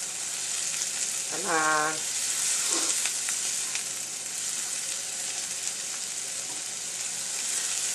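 Egg mixture frying in melted butter in a pan, a steady broadband sizzle running throughout, with a brief spoken remark near the start.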